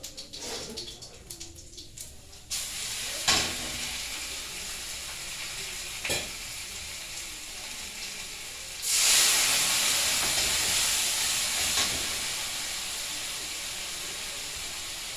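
Masala sizzling and frying in a pan for a hilsa fish curry, a steady hiss broken by a few sharp clinks of stirring, then a louder, brighter surge of sizzle partway through that holds on to the end.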